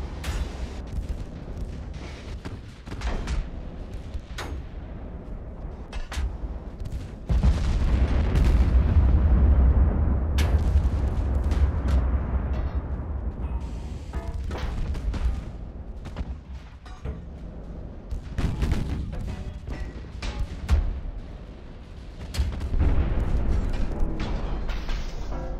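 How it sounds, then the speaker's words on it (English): Naval turret guns firing in the warship video game Ultimate Admiral: Dreadnoughts, with loud booming salvos and continuous rumbling battle noise that swells and fades throughout, and several sharp blasts scattered across the scene. "So we'll only get one turret firing this time."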